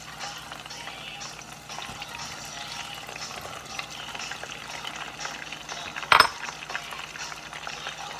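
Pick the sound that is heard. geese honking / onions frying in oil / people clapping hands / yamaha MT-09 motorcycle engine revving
onions frying in oil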